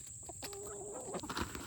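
Backyard chickens cluck softly nearby in a short burst, a steady high hum running underneath.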